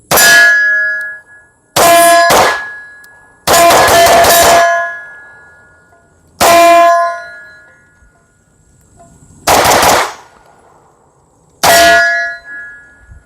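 Six sharp metallic clangs ring out from pistol rounds striking a steel target, spaced a second or two apart with each ring decaying briefly, loud and fairly close, with no talking.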